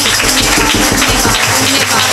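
Congregation clapping hands together during a Marathi prayer meeting at a prayer house in Naigaon, a dense steady patter of many hands with a low rumble beneath, loud and continuous throughout.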